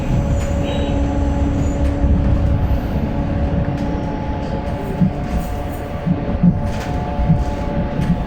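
A Golden Pass line train near Montreux, Switzerland rolls steadily along the rails with a constant rumble and a faint whine, occasional light clacks and squeaks, heard from inside.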